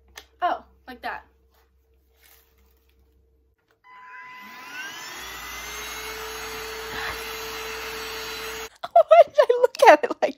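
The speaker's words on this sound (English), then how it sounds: "This is a chargeable cordless vacuum" A chargeable cordless handheld vacuum cleaner switches on and whines steadily for several seconds, loud and close. A person talks briefly before it starts and again right after it stops.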